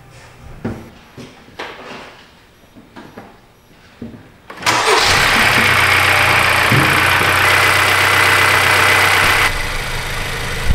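A car engine cranks and catches after an oil change with fresh 0W20, then settles into a loud, steady idle close by. Quieter clicks and handling noises come before the start, and the idle runs on, easing slightly near the end.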